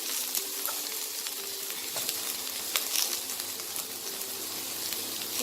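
Chopped carrots go into a pan of Bengali-style chicken stew, which fries with a steady, close, moderately loud sizzle and occasional small pops, no voices.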